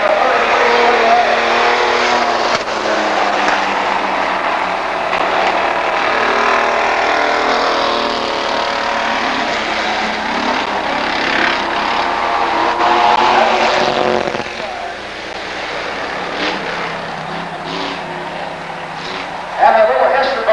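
A vintage race car roars past on a racetrack, the engine noise loud and continuous for about twenty seconds, swelling and fading as cars go by, with a voice talking faintly underneath.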